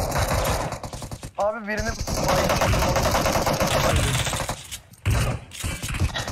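Automatic gunfire in PUBG Mobile rattling almost continuously in rapid bursts, loud and close, with a brief pause and excited voices talking over it.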